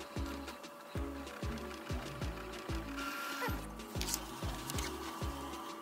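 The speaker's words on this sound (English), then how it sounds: "Now, we'll print the nozzle check again to see if the paper comes out completely blank." An Epson L8050 inkjet printer runs a nozzle check, its print head shuttling in a steady, rhythmic series of mechanical whirs and clicks, close and moderately quiet.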